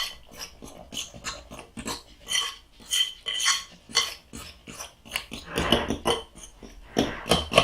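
A spoon works sourdough waffle batter with oil in a bowl, giving a run of close, irregular scraping and clinking strokes with soft wet squelches, no talking.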